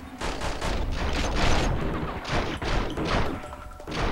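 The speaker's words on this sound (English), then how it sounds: "Heavy pistol." Heavy pistol fire in the video game Path of Neo, a run of loud, booming shots spaced irregularly, each one punchy and close with a short crashing tail, and no voices over it.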